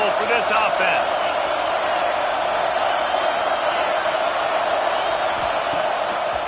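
A stadium crowd at a football game roars loudly and steadily throughout, a dense wall of noise with a voice talking over it.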